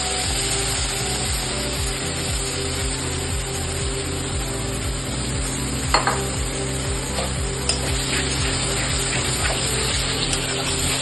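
Cashews with cloves, cardamom and cinnamon frying in a pan, stirred with occasional scrapes over a continuous sizzle and a low rhythmic pulsing hum beneath.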